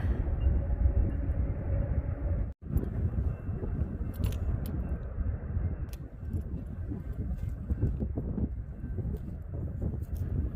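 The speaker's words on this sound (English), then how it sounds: "You can hear the train." A train rolling past a hillside vantage point in the USA, a steady loud low rumble with wind-like broadband roar lasting throughout, briefly dipping once before continuing.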